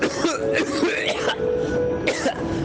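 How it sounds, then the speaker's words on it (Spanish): Someone coughs and clears their throat harshly after trying an electronic cigarette, several rough bursts close by with a brief pause before a final hack, and no clear talking. "¿Pero quién ha hecho la tos?"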